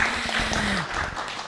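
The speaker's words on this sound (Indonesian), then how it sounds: "Tepuk tangan untuk beliau." A seated audience at a karawitan workshop gathering for a Babad Sanjiwana dance-drama gives a short burst of soft clapping, fairly faint and diffuse, with a brief tonal voice or instrument sound mixed in early.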